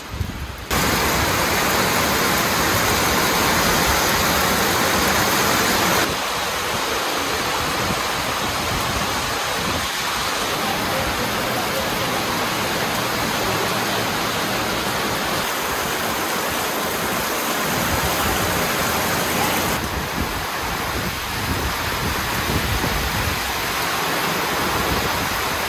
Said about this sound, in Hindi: अभी बारिश चालू हो गया है, मौसम एकदम चेंज हो गया है